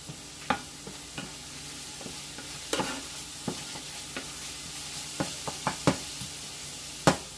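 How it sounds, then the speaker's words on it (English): Risotto rice toasting in a little oil for a scallop and mushroom risotto, a faint steady sizzle broken by scattered sharp clicks and scrapes of stirring, with no talk. "he added a little bit more oil in order to kind of toast up the Risotto rice"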